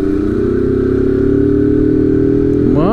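A Kawasaki Z 750 motorcycle engine idles loudly and steadily up close, then revs up sharply at the end.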